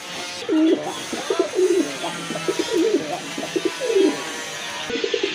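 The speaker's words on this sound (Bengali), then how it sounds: "আরেক জোড়া কবুতর" Pigeons coo repeatedly at close range in a pigeon collection, a series of soft rolling calls in rhythmic bursts over a faint background hiss.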